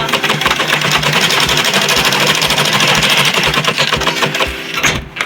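A sewing machine stitches a tote bag with a loud, fast, steady mechanical chatter of rapid needle strokes, running close and continuous before slowing at the end.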